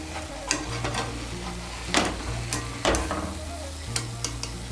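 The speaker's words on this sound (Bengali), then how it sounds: "এইভাবে আমি সবগুলো জিলিপি ভেজে নেব" Chhena jalebi fry in hot oil with a steady sizzle, punctuated by several sharp clinks and scrapes of a utensil turning the pieces, close and clear with no voices.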